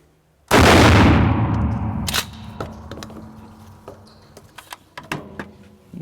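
A Remington Model 870 shotgun with an 18.5-inch cylinder bore barrel fires one loud, close blast of double-aught buckshot, with a long decaying echo and then faint clicks and handling noises.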